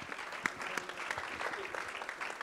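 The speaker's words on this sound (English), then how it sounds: "Yes, let's clap for Jesus." A church congregation claps together in a dense, continuous patter, heard at a moderate distance with some faint voices mixed in.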